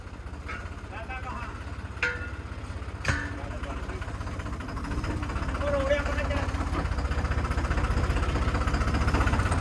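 An engine runs with a steady low throbbing idle, a couple of sharp knocks early on, the rumble growing slightly louder toward the end.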